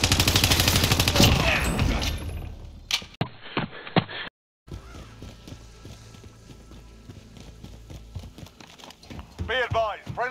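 Video game gunfire in a battle royale quads match, heavy rapid shooting at the start, then scattered shots and game noise after a short dropout while players talk over it.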